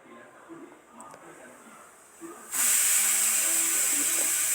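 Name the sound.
tamarind chutney paste sizzling in hot tempering oil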